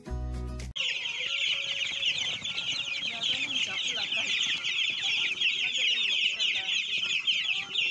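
Nine-day-old broiler chickens on a farm fill the space with constant high-pitched cheeping and clucking from a large flock after a short opening sound.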